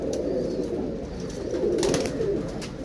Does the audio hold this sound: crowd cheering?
no